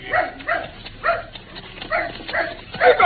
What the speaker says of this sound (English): Hey, dog there.